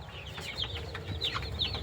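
Young chickens, about a month and a half old, on a poultry farm give soft, high chirping calls and clucks, several overlapping in quick succession, faint and nearby.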